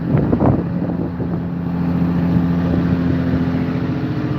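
A boat engine runs steadily on a fishing trip, a loud, close, continuous low drone with wind buffeting the microphone throughout.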